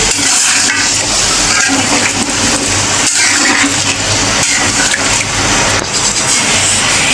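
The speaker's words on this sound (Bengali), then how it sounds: "এখন আমি দিয়ে দেবো ঝোল মাংসটা সিদ্ধ হওয়ার জন্য।" Broth poured into a pot of browning mutton, a loud, steady wet splashing and sizzling rush that runs continuously close up, with no talking.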